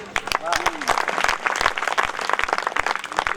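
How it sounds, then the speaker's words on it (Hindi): Women in the audience at a Hindi comedy poetry gathering applaud enthusiastically, a dense ongoing patter of claps, with voices and a whistle-like tone audible among the crowd. "महिलाएं बहुत जोश में तालियां बजा रही हैं"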